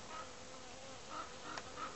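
Honeybees flying around spring hives, a faint, steady buzzing hum with a few brief louder passes as individual bees fly close by. The setting is quiet and no one speaks.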